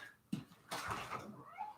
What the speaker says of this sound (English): as I let my cat indoors